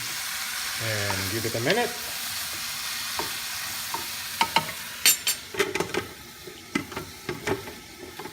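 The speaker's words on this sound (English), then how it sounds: "of course our mushroom. Give it a stir again." Mushrooms being stirred as they fry in a pan with vegetables; sizzling frying runs under a spoken line early on, followed by a series of sharp scraping and clattering stir strokes close by.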